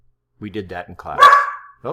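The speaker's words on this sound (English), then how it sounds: "the dog is getting excited about something here." A dog barks excitedly in the background, a short burst of yaps partly overlapping a nearby man's steady speech, with talk resuming right after.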